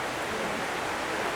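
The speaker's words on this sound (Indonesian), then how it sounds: "Hujan ini bukan penghalang Bu." Steady rain falls in a dense, even hiss that holds without a break and without voices.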